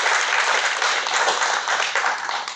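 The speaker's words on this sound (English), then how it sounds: "Let's give her a hand clap." An audience at a hospitality panel event at the Capitol Hilton applauds as a panelist is introduced, a dense, loud, continuous burst of many hands clapping that holds steady and tapers slightly at the end.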